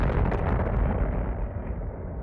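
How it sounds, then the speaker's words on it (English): A designed booming low impact from a Damage 2 percussion kit, one heavy, close explosion-like hit whose deep rumble decays slowly over about two seconds. "here on F1 I created this booming low sound."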